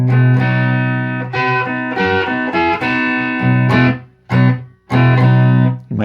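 An electric guitar plays a riff, a series of bright, slightly driven chords and choppy strums in a loose rhythm, with a couple of short gaps near the end.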